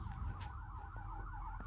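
A fire truck siren outside wails, rising and falling in steady cycles, faint and distant, under a low rumbling background with occasional soft clicks.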